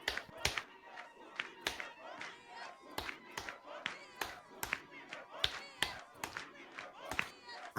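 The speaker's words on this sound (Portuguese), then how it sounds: "that we need to clap for Jesus" A church congregation claps for Jesus at a large reception, with uneven, scattered hand claps mixed with shouts and crowd chatter, fairly close and moderately loud.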